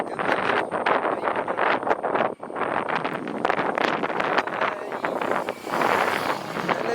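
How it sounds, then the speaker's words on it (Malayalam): Strong wind gusts at an aqueduct, buffeting the microphone in loud uneven bursts with a brief lull partway through. "നല്ലൊരു കാറ്റ് ഇവിടെ അടിക്കുന്നുണ്ട്"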